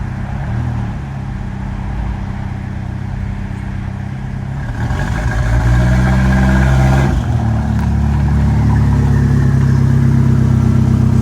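A turbocharged Dodge Daytona with a newly swapped transmission pulls in second gear, its engine droning steadily and then swelling louder as it accelerates, heard from close by and without talk.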